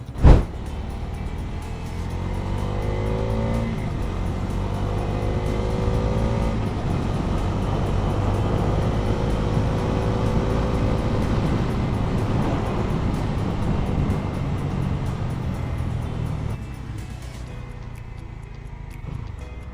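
Busy road traffic at a festival crowd, heard from a motorcycle: a dense, steady rumble of car engines and wind noise that runs throughout, loud and close, with no talk.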